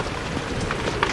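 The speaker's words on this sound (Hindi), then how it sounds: "बारिश तेज हो गई।" Heavy rain pouring down outdoors, a dense, steady hiss of falling water with scattered drops spattering on surfaces, continuous and fairly loud with no voices.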